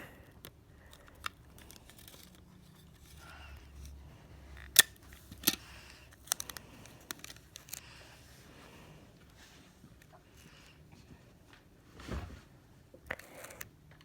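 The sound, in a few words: scissors cutting off excess tape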